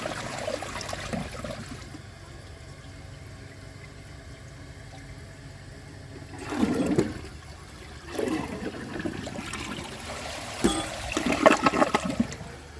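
A Project Source Pro toilet flushing, a low steady rush of water with louder surges of swirling and draining that rise and fall near the end, close by with no talk.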